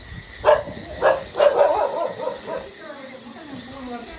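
A dog barks and whimpers in a few short yelps spaced about half a second apart, fairly close, with faint background sound and no clear talk over it.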